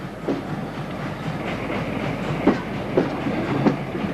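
A train rolls along the rails with a steady rumble, and rhythmic clickety-clack beats sound every half second or so.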